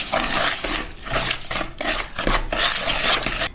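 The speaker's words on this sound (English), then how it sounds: "Now I'm going to crack in my egg and grate in some ginger. We want 1 whole egg. It's a big egg, actually. I'm going to stir that together." Egg and freshly grated ginger being stirred into an eggless-butter gingerbread cookie batter, a steady, close scraping and sloshing rhythm of strokes repeating about every half second, with no talking.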